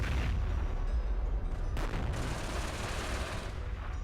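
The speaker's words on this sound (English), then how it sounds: "There's a 57mm anti-tank gun here." 57mm anti-tank gun firing: a sharp blast followed by rolling, rumbling booms and crackling echoes, fairly distant and faint.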